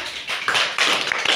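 A group of children clap together in a classroom game, a quick rapid patter of many hands, close and continuous for a moment.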